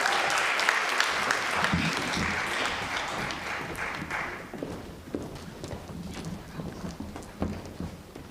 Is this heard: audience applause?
yes